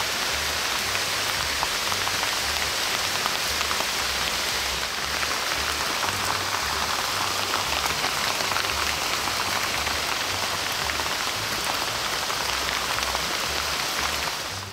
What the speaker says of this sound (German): Es fängt an zu regnen.